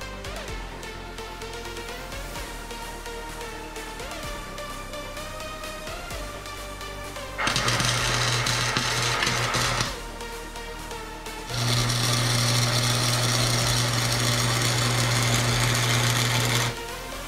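Tack welding on a go-kart muffler: two loud bursts of harsh buzzing crackle, one short and one longer, stand out against a quieter mechanical hum from the workshop, close to the microphone with no voices.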